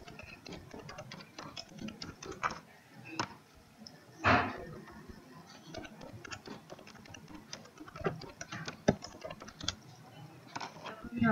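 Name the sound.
typing the date on a computer keyboard in Tally software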